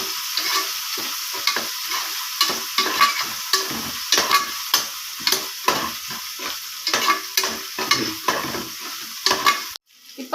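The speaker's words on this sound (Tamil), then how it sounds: "அந்த இஞ்சி பூண்டோட பச்சை வாசனை போக வரைக்கும் வதக்கலாம்." Crushed ginger and garlic sautéing in a hot pan, with steady close sizzling broken by a rapid, regular run of spoon strokes scraping the pan, ending in a short louder clatter.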